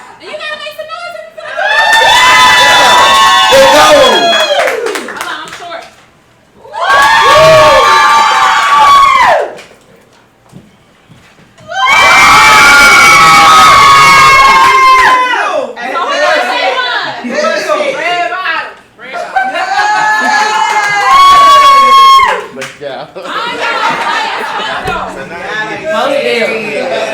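Live podcast audience cheering, whooping and shouting in loud bursts separated by brief lulls, with voices and laughter mixed in throughout.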